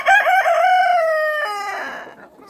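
A farmyard rooster of a small breed crows once, loud and close, in a single drawn-out call with rising and falling harmonics that fades at the end, on a frosty spring morning.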